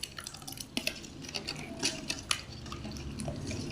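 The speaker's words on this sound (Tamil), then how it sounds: "நல்லா ஒரு கலக்கிங்க. சக்கரை நல்லா கரைஞ்சிடும்." A spoon stirs sugar into a muskmelon milkshake, clinking against the container in irregular taps and scrapes over a soft liquid swirl, close and moderately quiet with no talking.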